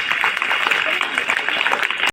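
An audience claps loudly and steadily to welcome Seema before she recites her poem at a convocation ceremony, the applause filling about two seconds before cutting off abruptly.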